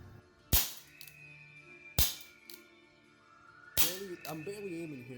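Three sharp revolver shots fired at boars from a custom revolver, spaced over a few seconds, each a loud close crack, with a voice talking after the last shot.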